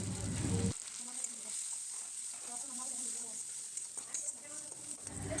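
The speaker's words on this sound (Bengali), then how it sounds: "সব কিছু দেওয়া হয়ে গেলে ভালোভাবে মশলাটাকে কষিয়ে নিতে হবে।" A spice paste of turmeric, salt, chilli powder and cumin powder fries in a pan, an even close sizzle with stirring scrapes, and a faint voice may sit beneath.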